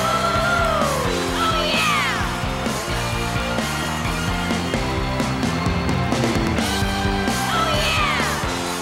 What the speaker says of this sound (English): Trucks scream and cheer when they hear that music coming from the stage.